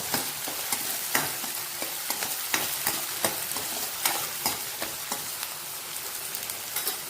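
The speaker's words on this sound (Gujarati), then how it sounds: "આપણે આદુ લસણ સરસ મજાનું કટિંગ કરી લીધું હતું ઝીણું ઝીણું, એ આપણે હવે અંદર એડ કરી દઈશું।" Finely chopped ginger and garlic fry in hot oil for Manchurian. A busy, crackling sizzle is broken by frequent scraping and tapping of a spatula, with no voices.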